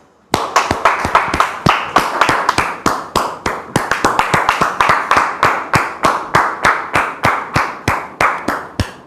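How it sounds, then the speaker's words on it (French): Rhythmic, steady hand clapping from an audience welcomes a guest on a French-language talk show, sharp claps repeating continuously and fairly close for about nine seconds. "nous recevons ici sous vos applaudissements"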